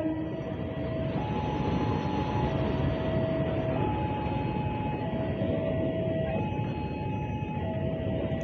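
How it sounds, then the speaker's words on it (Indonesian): A train pulls into Lempuyangan station in Yogyakarta after rain, a steady loud rumble with drawn-out horn-like tones shifting in pitch throughout, heard alone without talk. "Kereta apinya udah tiba."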